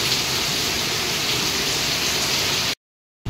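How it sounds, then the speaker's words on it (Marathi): Torrential Mumbai rain with rainwater pouring, a loud continuous wash of falling water that cuts off abruptly into silence near the end. "आणि पावसाचं पाणी बघा"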